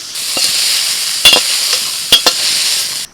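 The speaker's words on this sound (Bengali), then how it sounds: "ওই তেলের মধ্যে এবার সয়াবিনটা ভেজে নিচ্ছি" Soya chunks frying in oil in a wok, a loud steady sizzle broken by a few sharp spatula knocks and scrapes against the metal.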